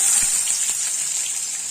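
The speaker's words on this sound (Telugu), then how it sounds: "ఇప్పుడు ఒక పెద్ద సైజు ఆనియన్ కట్ చేసుకున్నాను ఇది వేసేసుకోవాలి" Chopped onion drops into hot oil already holding cumin and mustard seeds, giving a bright, steady hiss of frying with a few faint soft taps, close and continuous for the short moment.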